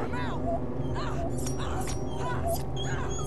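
A dog in the horror video game Remothered: Broken Porcelain whimpers and yips in repeated high, wavering cries over a dense, constant game soundtrack, with someone talking at the same time.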